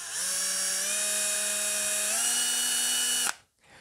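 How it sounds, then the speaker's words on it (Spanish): A small 12-volt electric motor powered through a transformer spins with a steady, loud, whining hum whose pitch steps up partway through, then cuts off abruptly near the end. "Como este motorcito está conectado al transformador, sigue habiendo 12 voltios aquí porque lo generamos con esto y hace girar el motorcito."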